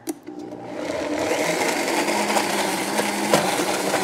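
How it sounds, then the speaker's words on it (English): A blender whirs steadily as it purées raw chili chocolate fudge ingredients spiced with cayenne pepper. It starts after a brief knock, then settles into a continuous close motor hum with no talking. "put it in the blender"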